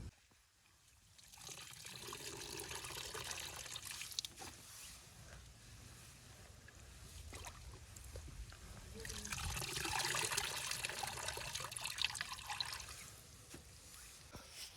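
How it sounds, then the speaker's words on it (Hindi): Straw fodder (tudi) being washed in water to feed goats in a village, with a steady sloshing, trickling wash of water running through most of the stretch, swelling louder near the end, mostly without talk. "तूड़ी हमने साफ़ कर लिए पानी में"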